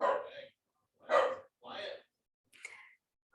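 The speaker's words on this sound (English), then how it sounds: "y'all can hear my dog." A pet dog gives three or four short, close barks with pauses between them, heard alone in an indoor setting.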